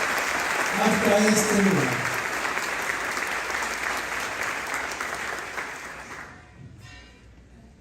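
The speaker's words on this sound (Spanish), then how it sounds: "Así que un fuerte aplauso a ustedes mismos por venir" A full church congregation bursts into loud, sustained applause during a Catholic Mass, with a voice speaking briefly over it early on; the clapping fades out near the end as the room quiets.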